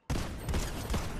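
Rapid gunfire from a video game, dense and continuous bursts filling the short stretch at steady loudness after an abrupt start.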